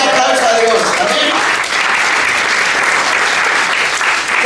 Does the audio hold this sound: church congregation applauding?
yes